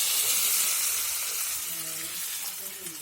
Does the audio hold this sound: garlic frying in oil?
yes